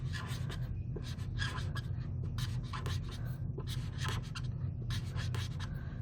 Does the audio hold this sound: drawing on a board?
yes